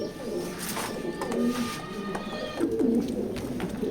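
A white knot racing pigeon coos in a loft, several soft low coos spaced across the clip, close by, over faint background rustle and distant noise.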